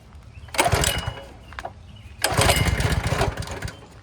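Petrol engine on a pressure washer being pull-started cold with the choke fully on: two loud sputtering cranking bursts, the second longer, with a quiet pause between them.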